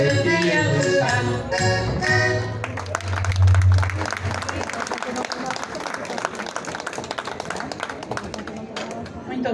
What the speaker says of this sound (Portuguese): Muito obrigado pelos aplausos